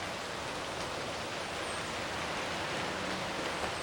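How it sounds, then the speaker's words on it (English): Light rain falling steadily on a backyard fish pond in Villa Rica, Georgia, a soft continuous hiss of drops on water, quiet and even with no voices. "It's still raining a little bit."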